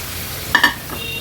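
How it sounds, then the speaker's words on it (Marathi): A ground masala paste sautés in hot oil for an Agri-Koli style fish thali, a low frying hiss broken by two quick stirring scrapes close up. "वाटण पण तेलावर परतून घेऊया"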